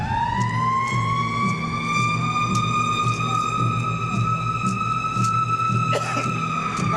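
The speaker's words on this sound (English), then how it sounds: "Fire trucks need their props too" A fire truck's siren sounds loud and close, holding a steady high tone for the whole stretch. The wail barely shifts in pitch, and faint vehicle rumble runs underneath.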